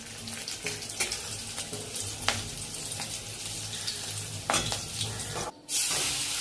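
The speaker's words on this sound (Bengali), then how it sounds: "মাছের ডিম ভাজা হচ্ছে।" Fish roe fries in oil with a soft, continuous sizzle, broken by scattered clinks and scrapes of stirring, fairly quiet and close.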